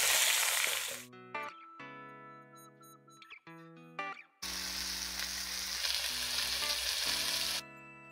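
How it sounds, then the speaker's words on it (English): Steak dropped into hot oil in a pan, a loud sizzle that stops and later bursts up again strongly, with tonal music-like tones in the gaps and under the frying. "Drop in the meat away from you so you don't splatter yourself with hot oil."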